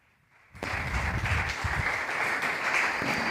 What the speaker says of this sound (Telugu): వాళ్ళు వస్తుండగా మనము చప్పట్లు కొడుతూ మనము సన్మానిస్తాం.